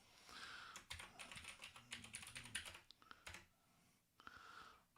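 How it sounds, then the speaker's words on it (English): Typing on a computer keyboard while setting up a mini PC, heard as a quiet, steady run of close key clicks with brief pauses, then a second short flurry. "I should take this off screen so people can see what I'm typing."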